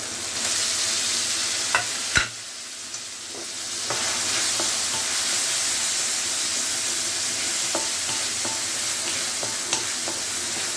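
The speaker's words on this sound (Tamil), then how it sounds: "தக்காளி நல்லா வதங்கட்டும்" Tomatoes sizzle and fry in a pan of intestine gravy with ginger-garlic paste, a steady close hiss broken by scraping stir strokes and a sharp clack of the spoon, with no talking.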